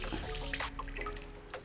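A dirty martini is poured as a soft, close trickle of liquid with faint drips and small clinks, fairly quiet and alone with no talk.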